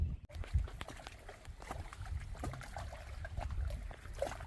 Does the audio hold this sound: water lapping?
yes